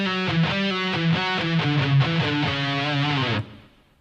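A distorted electric guitar plays a slow solo line from a song, with clear separate notes in a steady melodic run that ends abruptly and then rings out.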